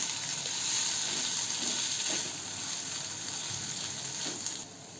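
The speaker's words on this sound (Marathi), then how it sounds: "बारीक गॅसवर मी परतते" Capsicum (bell pepper) sautéing in a pan over a low gas flame, a steady soft sizzle and crackle running throughout with faint stirring scrapes, no voices.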